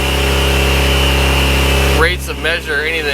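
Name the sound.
Ford EcoBoost engine idling high in cold warm-up mode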